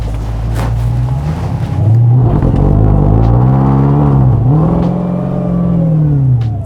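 A Dodge Demon 170 engine revs up close and loud before launch, its pitch climbing and wavering in a sustained throaty roar with no talk over it.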